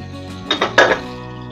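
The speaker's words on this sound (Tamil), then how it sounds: "கொஞ்சம் அப்பப்போ கொஞ்சம் கிளறி விடணும்." A spatula knocks and scrapes against a pan while stirring spleen pepper fry, two quick clanking bursts over a quiet low hum, close and fairly loud, no voices.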